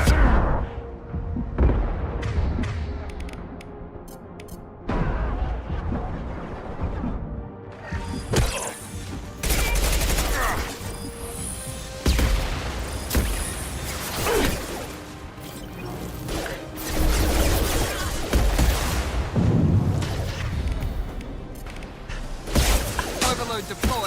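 Mass Effect 2 combat with gunfire, rapid cracking shots and heavy impacts in dense overlapping bursts over a rumbling game soundtrack, loud and sustained.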